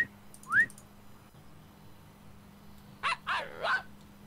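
Synthetic barking from a virtual dog in the 2006 PC game Dogz, heard as one short yelp near the start and then a run of three quick barks toward the end, fairly clear with quiet room tone between.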